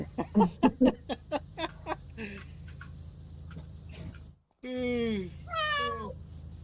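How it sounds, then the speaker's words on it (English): A cat meows repeatedly in short rhythmic bursts, fairly close and clear, followed by longer drawn-out wavering meows after a brief break, with faint talk in the background. "we had constant kitty noises for like an hour"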